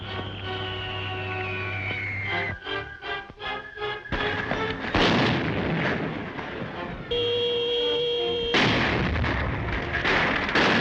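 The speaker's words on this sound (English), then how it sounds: "Bombing the temple." Bombs strike a temple in a vintage 1936 film serial, loud booming blasts and crackling rumbles arriving in several bursts with brief gaps, some stretches thick with noisy debris-like roar.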